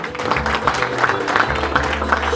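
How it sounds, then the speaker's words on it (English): A crowd applauds steadily for a couple of seconds, the clapping dense and continuous over a low background hum and faint voices. "Round of applause, ladies and gentlemen."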